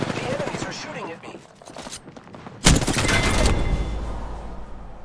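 Enemy gunfire in the shooter game Apex Legends, bursts of rapid shots followed by a sudden loud blast and a stretch of heavy crackling fire.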